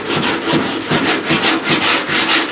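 Sanding on dented truck cab corner bodywork, a steady rhythmic scrape in repeated strokes, loud and close with no talking.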